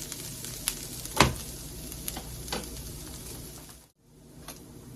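Trader Joe's organic tempeh fries in a pan with a constant close sizzle, punctuated by a few sharp scraping stirs and clinks of the utensil, with no talk.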